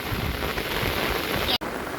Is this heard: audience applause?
no